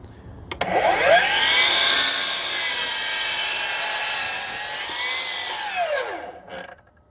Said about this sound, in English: I cut with the miter saw and make a 30-degree angle cut